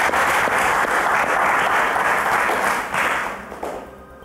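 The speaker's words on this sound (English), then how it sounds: "To a round of applause" A TV quiz show audience applauds with steady, dense clapping that holds for several seconds, then gradually thins out and fades toward the end.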